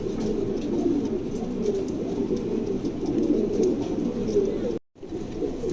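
Pigeons at a market cooing softly and repeatedly in a low, murmuring chorus over background bustle, with a brief dropout near the end.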